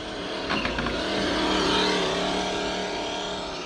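An MFP Interceptor RC car fitted with an engine sound module, its simulated motor note droning and swelling as it drives, steady and fairly loud, without speech.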